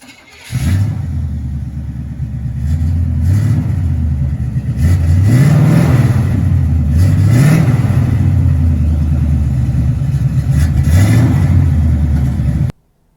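A truck engine with a weak, low battery runs loud and close, revving repeatedly in rising surges over a steady rumble, then cuts off abruptly at the end.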